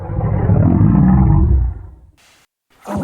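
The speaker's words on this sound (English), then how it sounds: "Suddenly there was a roaring sound." A deep, loud beast roar rumbles for about two seconds as a sound effect in an audio drama, then cuts to near silence before a brief burst of noise.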